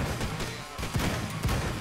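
Heavy gunshots from the game Madness: Project Nexus boom in a loud, cluttered mix, with a couple of distinct impacts near the second half amid continuous action noise.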